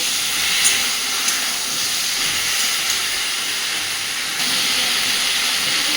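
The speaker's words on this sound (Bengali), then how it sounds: "সুন্দর করে আলু আর কুমড়োটাকে একটু ভেজে নেব।" Pumpkin and potato pieces fry in a hot pan, giving a steady, loud sizzling hiss that holds through the whole stretch with a few faint clicks and a slight lift in intensity near the end.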